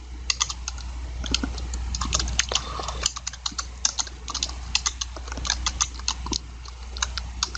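Typing on a computer keyboard, a close, quiet run of irregular key clicks and taps with brief pauses over a steady low hum.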